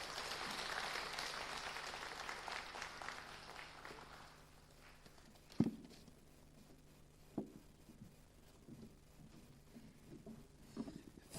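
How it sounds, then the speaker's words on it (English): A university conference audience in Dar es Salaam claps for the speakers: a moderate wash of applause lasts about four seconds, then dies away into a quiet hall broken by a few isolated knocks and small handling noises. "Another round of applause to the speakers."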